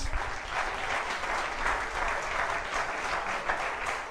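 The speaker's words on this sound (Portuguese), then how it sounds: "Aplauda a Jesus, pode aplaudir." A church congregation applauds in a full, sustained burst of many hands clapping together, steady and fairly close, with no voices standing out.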